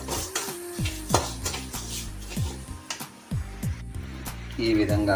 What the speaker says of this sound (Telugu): స్టవ్ మీద పెట్టుకొని ఈ విధంగా బాగా వేయించుకోవాలి.